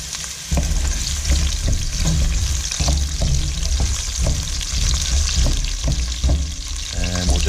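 Chopped onion sizzles steadily in a little oil and ghee for a potato curry, a loud continuous frying hiss broken by regular soft stirring knocks, with no one speaking.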